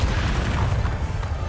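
Bombarda blasting spell cast in the Hogwarts Legacy video game, a heavy low booming rumble that fills the whole moment, loud and continuous with no distinct separate hits.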